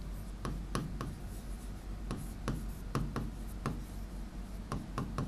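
Chalk or marker writing on a board during a history lesson, steady scratching strokes with sharp ticks as letters are formed, close and fairly loud over a constant low room hum, no speech.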